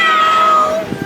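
At a Hawaiian luau dance contest, a person imitates a cat with one drawn-out, rising and falling vocal meow, loud and close, with a little crowd noise at the end.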